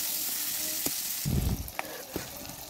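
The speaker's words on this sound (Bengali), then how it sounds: "এবার একই তেলে দিলাম বেশ খানিকটা পেঁয়াজ কুচি দিয়ে ভালোভাবে পেঁয়াজ কুচিগুলো নেড়ে চেড়ে ভেজে নিতে হবে" Chopped onions frying in the same oil used for shrimp, a dense close sizzle with a few sharp stirring knocks and a brief louder burst as they are moved around the pan.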